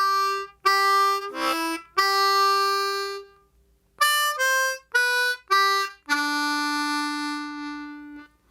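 Harmonica licks joined in one phrase: a few held notes, then short punchy repeated notes and a long sustained closing tone, played solo and close with brief gaps between bursts.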